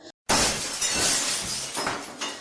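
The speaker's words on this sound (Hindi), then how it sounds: "ये लैंप कैसे गिर गया?" A brief thud as a lamp falls, followed by a sudden loud crash of glass shattering, with shards scattering and tinkling for about two seconds.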